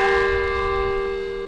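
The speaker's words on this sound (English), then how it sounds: "the church's bells do ring across the country" Church bells ring for Christmas in Syria, a loud sustained bell tone with rich overtones slowly decaying, no voices.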